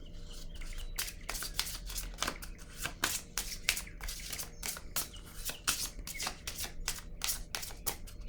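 Tarot cards being shuffled by hand, a rapid run of papery riffles and flicks in quick bursts, close and steady across the whole stretch with a faint background hum.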